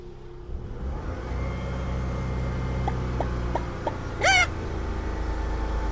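A car engine runs with a steady low drone throughout a driving lesson, revving in place rather than moving off, with a few faint clicks and a brief squeak near the end.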